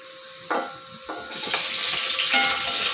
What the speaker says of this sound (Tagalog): Ang ating ginigisa ngayon.